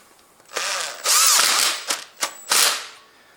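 Power tool driving a locking bolt on a Honda Civic, several short whirring bursts separated by brief pauses, with clicking ratchet-like spurts, loud and close.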